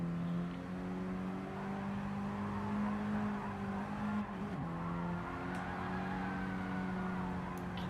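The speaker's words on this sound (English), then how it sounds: "You can hear these tyres squealing." A Mini Cooper racing car engine at Barcelona-Catalunya drones steadily with a sustained high-pitched tyre squeal rising and falling over it, no voices.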